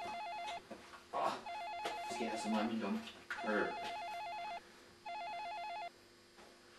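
Phone ringing in repeated warbling electronic bursts, four trilling rings spaced across the stretch, with someone talking between and over them.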